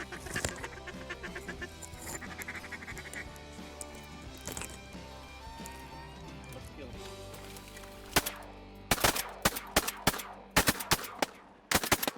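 Pintail ducks call and honk amid a busy outdoor duck hunt in Mexico, followed by several loud, sharp shotgun blasts in quick succession.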